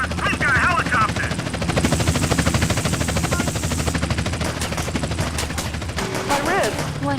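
Police helicopter in GTA San Andreas, a steady loud rotor chop that runs throughout, mixed with rapid gunfire bursts and other game noise.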